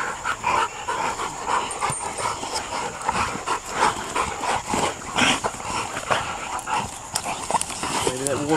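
Hunting dogs bay at a backwoods bay on July 4, 2011, with a continuous close chorus of barks, yips and whimpers. Human voices can be heard now and then.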